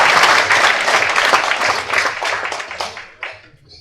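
Audience applause at a speech event in a Tamil hall, a dense steady clapping that fills the space and then thins and fades out over the last second.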